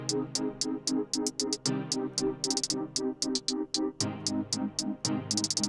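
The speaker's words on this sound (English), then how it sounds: "now my hi-hats sound like this" Pitched hi-hat samples in a trap beat built in Studio One, crisp rapid ticks in rolling patterns with some shifted up and some down in pitch, over a bass line and melodic chords.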